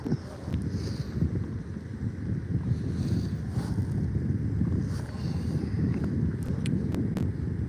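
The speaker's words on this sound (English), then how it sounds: "now the wind kicked up more, and it's pushing us along bank" Wind buffets and rumbles steadily across the microphone as a fishing boat drifts along a bank, with low water and hull noise underneath throughout.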